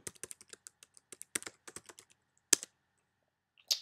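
Quick, light clicks of typing on a computer keyboard, a burst of keystrokes, a brief pause, then a few sharper taps.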